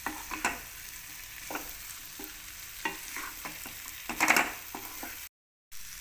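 Spicy dry drumstick curry with finely chopped coriander stirred in a pan, a spoon scraping and clinking in irregular strokes over a soft, steady sizzle, close by, with no voices, then a brief gap of silence near the end.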